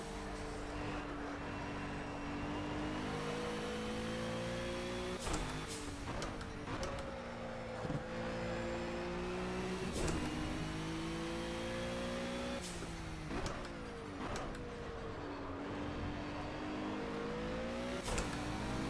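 A Cadillac ATS-VR GT3 race car engine in Project CARS drones steadily at close range, with repeated upshifts and revs climbing in pitch and brief dips as gears change.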